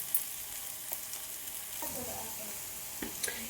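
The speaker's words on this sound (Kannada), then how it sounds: "ಈಗಿದ ಮಸ್ತ್ ಪಕ್ಕಿ ಫ್ರೈ ಆಗೈತಿ" Bitter gourd frying in oil in a pan gives a steady, close sizzle with a few faint stirring knocks.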